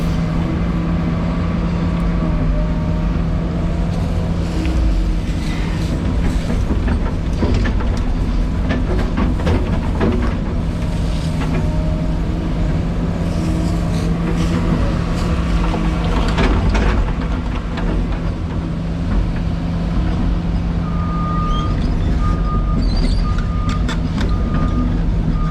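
A heavy equipment compaction wheel works a fresh lift of soil down in a trench, giving a steady, loud mechanical rumble and engine drone throughout, with rattling and clanking over the continuous low roar.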